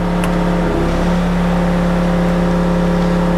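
A Bobcat skid steer with weak hydraulics runs at a steady idle, a loud, constant low engine drone with a brief change near the start, close by with no talk.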